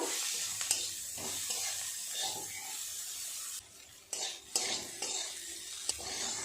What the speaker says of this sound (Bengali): আর একটু নেড়ে চেড়ে নেব